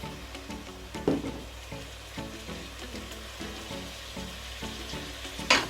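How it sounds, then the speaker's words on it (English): Beef sizzles and crackles steadily in hot oil in a pot, with peppers added. The frying is close and even, with occasional louder pops and stirring clatter, and no one speaks. "so it's frying"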